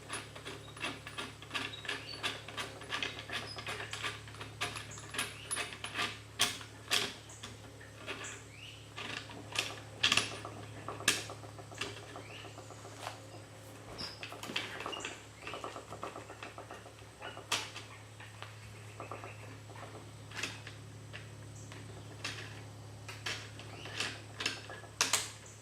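Cap screwed in and tightened down by hand on a GForce GF99 DLX AR15-style shotgun during reassembly, giving a long run of small ratcheting clicks and metallic ticks at close range over a steady low hum, with no talk.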